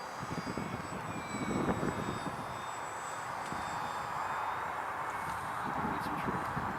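A ParkZone Artizan RC airplane flies outdoors, its small electric motor giving a continuous whining drone at steady cruise, with soft wind noise beneath.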